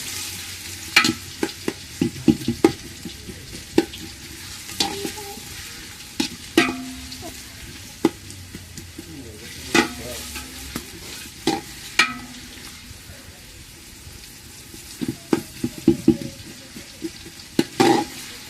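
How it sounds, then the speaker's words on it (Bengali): Onions fry in a hot pan, a steady sizzle broken by frequent sharp scrapes and knocks of a spoon stirring them against the pan. "এই জায়গায় এখন পেঁয়াজটা একটু ভাজা হোক"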